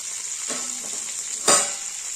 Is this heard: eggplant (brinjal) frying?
yes